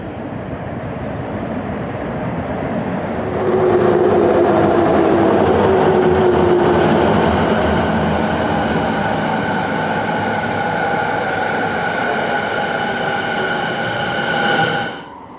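A Tokyo Rinkai Line train running underground toward Haneda, a steady loud rumble of wheels and tunnel roar building and holding for the whole stretch, with a faint high squeal riding on top before the noise drops away at the end.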